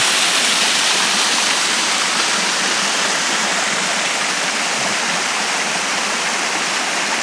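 A steady, full roar of falling water from a waterfall at Rainbow Springs State Park, Dunnellon, Florida, loud and unbroken throughout, with no voices.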